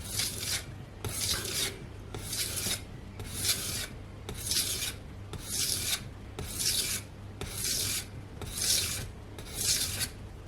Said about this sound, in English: I will do a couple of stuff with 10 of these crescent strokes to even out the bevel